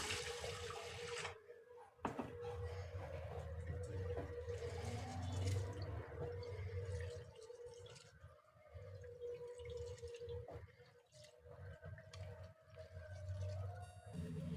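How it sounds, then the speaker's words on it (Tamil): Moong dal lentils are washed in water in a home kitchen: sloshing, dripping and running water stirs continuously, fairly faint and close, with no talk. "இப்போ இதை ஒரு நாலஞ்சு தடவை நல்லா கழுவி எடுத்துடலாம்"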